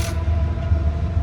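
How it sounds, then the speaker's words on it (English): A train passing outdoors gives a continuous low rumble and rolling roar. It is loud and close and holds steady through the whole moment, with a faint clank near the end. "Train just passed by."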